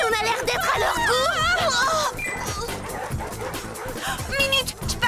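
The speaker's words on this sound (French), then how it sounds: "lâchez la horde de loups!" Cartoon wolves or werewolf-like dogs in a pack bark, yip and whimper in a frantic chase scene, layered with dramatic music and animated voices throughout.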